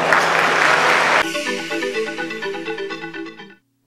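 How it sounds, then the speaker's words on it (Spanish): Loud crowd applause at an evening gathering cuts off abruptly after about a second, replaced by a bright melodic electronic jingle that plays to the end. "Le damos un fuerte aplauso."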